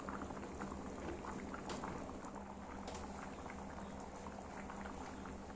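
Kerala-style catfish curry simmering and thickening in a pot, a continuous soft bubbling with small pops and gurgles, close but quiet, with no talking.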